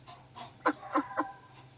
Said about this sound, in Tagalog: mga 3 months old na manok na native